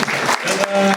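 Audience applause at a founders night forum event, dense broadband clapping filling the whole second, loud and close, with a voice speaking over it.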